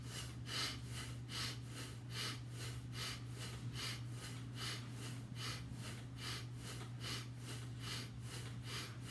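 A person breathes deeply in and out in slow, even cycles during a shoulder-shrug neck exercise, each breath a close airy rush repeating steadily, over a constant low background hum.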